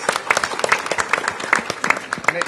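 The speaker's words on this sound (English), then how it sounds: "Please give her a huge round of applause." Continuous applause from an outdoor children's reading-and-fitness event crowd greets Mrs. McDonald, many hands clapping evenly and close by for a couple of seconds with no speech.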